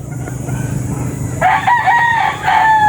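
A bull stag rooster crows once, loud and close, breaking in after a second and a half of low background noise and rumble.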